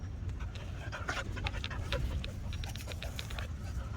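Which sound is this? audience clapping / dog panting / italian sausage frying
dog panting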